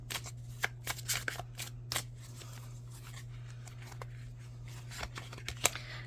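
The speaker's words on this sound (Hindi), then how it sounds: "लास्ट कार्ड निकालेंगे।" Tarot cards are drawn and shuffled with soft, close papery flicks and brief riffling bursts scattered at an irregular pace, faint over a low steady hum.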